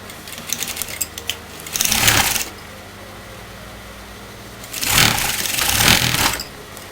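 A sewing machine stitches kurta fabric in two short, loud bursts over a steady background hum, with quieter handling noises before the first burst.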